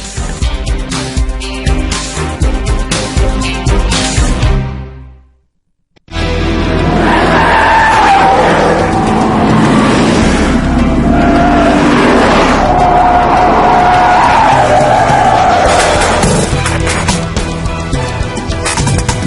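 Michelin tyres on a test track braking from 31 km/h to a stop, a loud sustained rolling and skidding roar with tyre squeal, cut by a brief silence before the noise resumes at full level for the rest.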